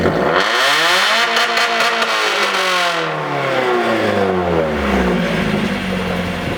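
Mazda Miata NA with a new aftermarket exhaust revving hard outdoors, a loud rising and falling engine roar that climbs, holds and drops away.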